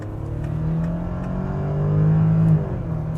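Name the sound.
Volkswagen Touareg R plug-in hybrid accelerating in sport mode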